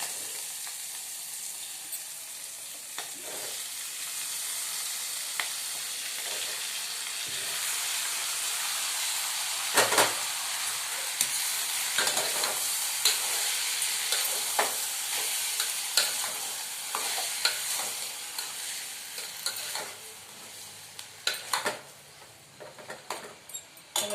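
Tomatoes added to hot oil in a frying pan and stirred, a continuous hissing sizzle with repeated scraping strokes and clicks from the spoon, getting busier toward the end.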